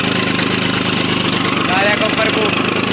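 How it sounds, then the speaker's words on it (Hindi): A New Holland 3630 tractor with a harrow, its engine running at a steady idle with a rhythmic diesel knock, close and loud while a person talks. "ट्रैक्टर की साउंड"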